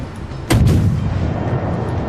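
Naval gun salvo from a warship in the game World of Warships, a single sharp loud boom followed by a rumbling decay, alone without talk.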